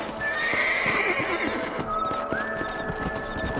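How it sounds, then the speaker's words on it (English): Horses gallop in Red Dead Redemption, their hooves clip-clopping in quick, steady rhythm up close, with whinnies and a rushing ambient backdrop throughout. "Let's get back on the horses and see what else is going on."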